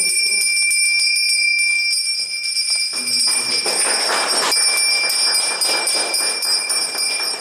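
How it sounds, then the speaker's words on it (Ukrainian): A small bell rings repeatedly with bright, sustained metallic tones, fairly close, over a faint busy background. "сьогодні я подзвоню у дзвіночок"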